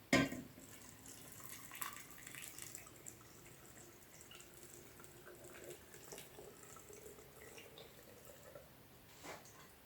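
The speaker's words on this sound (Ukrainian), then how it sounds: "Вода закипіла і окропом заливаємо помідори." Boiling water is poured from a pot over plum tomatoes packed in a glass jar, a faint, steady splashing trickle with a clink at the start and occasional drips.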